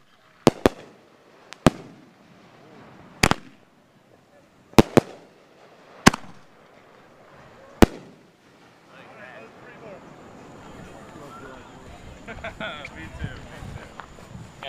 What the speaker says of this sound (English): The mortar's about to go up.